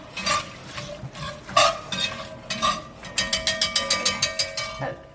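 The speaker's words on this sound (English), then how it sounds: "Keep stirring because we don't want to burn anything." Vegetables stirred in a pot for Louisiana gumbo, scraping strokes that quicken into a fast regular run of clinks and scrapes, close and fairly loud over a faint sizzle.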